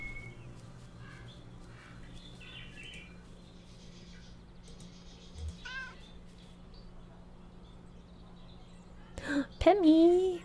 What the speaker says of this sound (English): Oh, hi, kitty.